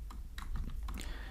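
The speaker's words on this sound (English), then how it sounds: "here I will type val db equals" Rapid keystrokes on a computer keyboard during app coding, a short burst of light clicks close by and fairly quiet, with no talking.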